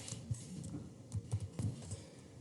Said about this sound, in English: Let's try typing in Ralph and seeing what we get